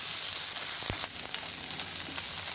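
Green chillies and curry leaves crackle in hot oil with onions for an okra fry, a steady close sizzle punctuated by a sharp spatula knock and scattered spitting pops.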